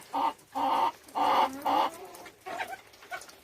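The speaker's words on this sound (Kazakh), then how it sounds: "Осылай қырқылдап жүр тауықтар" Backyard hens give four loud, drawn-out clucks in a steady rhythm, close by, followed by softer, broken clucking with no talk.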